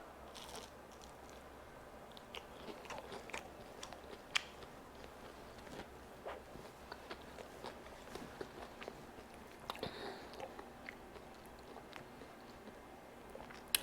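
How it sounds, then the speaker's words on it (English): Crunchy bites and chewing on a crispy air fryer fried pickle make faint, close, irregular crackles and clicks over a quiet room, with no talking. "So we're gonna try the second bite without the ranch."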